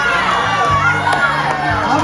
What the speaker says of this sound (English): How many cheers for Daniel?